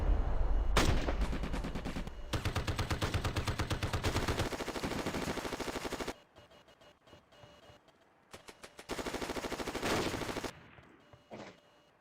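Turret gunfire in a World War II video game: loud, rapid automatic bursts in long sustained volleys, broken by a short quieter gap and then more bursts of fire.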